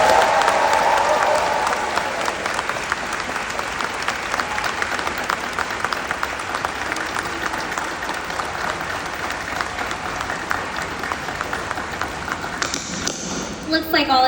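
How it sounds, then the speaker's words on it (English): Sustained audience applause at a Fresno State graduation ceremony, a dense wash of many hands clapping that swells at the start and keeps going steadily throughout, with a voice briefly breaking in near the end. "Let's give him a round of applause."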